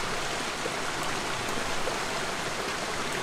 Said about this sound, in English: As if I'm being drawn away by being under this waterfall.